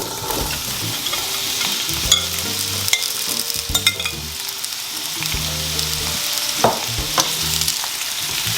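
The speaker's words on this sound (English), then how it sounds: "So I'm just going to add all the vegetables to this now." Vegetables sautéing in reused fish-frying oil in a pot produce a loud, continuous sizzle, broken by repeated scraping and clattering stir strokes throughout, with no one talking.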